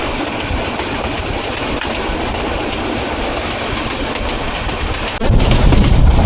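A passenger train rumbles steadily along the rails with a dense rolling roar and clatter, growing louder and heavier in the final second.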